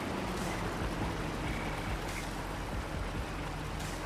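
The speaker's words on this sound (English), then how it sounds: "And it's got the little stream going by." A small stream runs through the scenery of Farming Simulator 25, a soft, continuous wash of flowing water. It stays faint and even throughout, with no talking over it.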